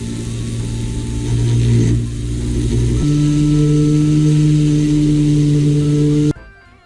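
A small rotary tool cuts a slot into a fishing lure clamped in a little vise. It gives a steady, close motor whine that drops to a lower pitch partway through, then cuts off abruptly near the end.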